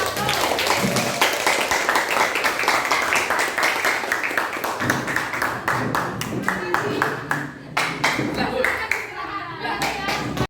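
A classroom of students claps for a tenth-grade class presentation, a steady patter of hand claps from many people lasting the whole stretch, with children's voices chattering underneath.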